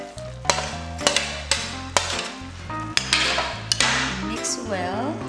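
A spoon stirs spicy Korean chicken stew with green onion in a pot, giving close, regular scraping knocks against the metal about once a second over a soft simmering sizzle.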